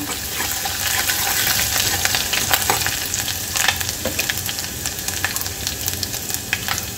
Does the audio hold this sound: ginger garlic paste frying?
yes